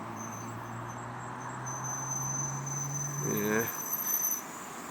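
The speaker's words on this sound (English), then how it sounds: "Squeaky brakes." A vehicle's brakes give a brief high squeal near a roundabout in Stirling, Scotland, rising over a steady low hum and insect-like chirping, with a short spoken word nearby.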